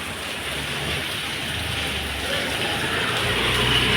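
Rain falls steadily, a soft continuous broadband patter and wash that holds even throughout with no clear voices over it.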